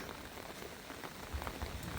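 Rain falls at a house during a storm, a soft, continuous patter of drops with a few slightly louder splashes, quiet and without voices.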